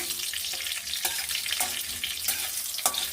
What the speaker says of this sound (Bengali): ফোড়নে দেওয়ার জন্যে দুটো তেজপাতা, দুটো শুকনো লঙ্কা, 5 ফোড়ন দিয়ে আমি